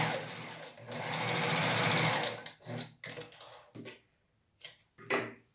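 A domestic sewing machine stitches knit fabric for a knit blouse in a fast, steady run for about two seconds, then fires off several short bursts separated by pauses.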